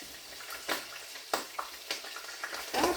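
Food fries in a pan with a little water in it, giving sharp intermittent spits and crackles that pop up irregularly over a quiet background, close by and fairly soft.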